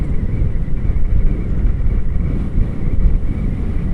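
Steady, heavy wind buffeting the microphone while riding a Yamaha XJ6F motorcycle in cold, windy weather, a loud low roar with no breaks, like rushing air while moving fast.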